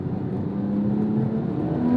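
A 2007 Porsche 911 GT3 with a naturally aspirated 3.6-liter flat-six, held in second gear on a road drive, its engine a steady droning hum with a thin whine that climbs slightly near the end.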